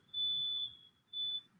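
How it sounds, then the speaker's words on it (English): A fire alarm on another floor chirps from a low battery, giving two high, steady electronic beeps, one longer and one shorter, over a faint low background murmur. "Sorry if you can hear my fire alarm going off."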